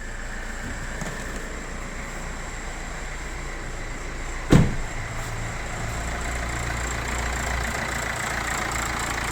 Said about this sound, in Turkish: Evet marşa bastık arkadaşlar